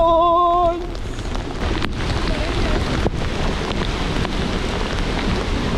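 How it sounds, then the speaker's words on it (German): Heavy rain pours down during a sudden thunderstorm on a bicycle tour, a loud, dense roar with wind buffeting the microphone and a few sharp cracks, after a brief tone at the start. "Freunde, innerhalb von Sekunden komplettes Gewitter."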